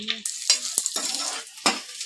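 A pan of frying food being stirred while cooking pongal with palak and methi leaves: sizzling oil crackles steadily under several sharp scraping strokes of a spoon against the pan, close and clear with no talking.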